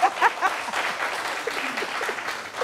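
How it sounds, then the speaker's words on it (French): Studio audience applause on a French television sports talk show, a brief burst of clapping and cheering mixed with overlapping voices and a whistle-like cry at the start. "On embrasse applaudit pour Marion"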